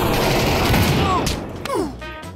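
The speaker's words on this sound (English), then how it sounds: "Who just shot?" Gunshots in the VR shooter Pavlov, a loud dense burst of firing with sharp cracks trailing off, partly mixed with voices.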